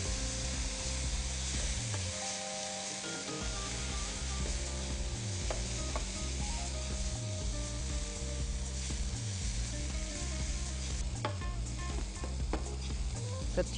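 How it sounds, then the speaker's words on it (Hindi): Chopped fresh chili frying in a hot pan with a splash of white vinegar, a steady close sizzle that runs unbroken for the whole stretch, with faint repeating tones from music behind it. "सब चीज़ों को आप 2-3 मिनट के लिए फ्राई करें"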